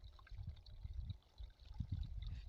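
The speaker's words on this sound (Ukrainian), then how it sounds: "Прямо аж чути, як вода дзюрчить." Faint water trickles and gurgles softly and steadily, with no voices.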